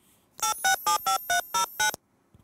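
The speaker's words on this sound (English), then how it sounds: "I've actually done projects before where I've played dual tone multifunction, so two tones at once." Dual-tone telephone dialing tones played as a phone number through a STEMMA speaker amplifier: seven evenly spaced, equally loud beeps in a quick steady rhythm, clean and close, with silence before and after.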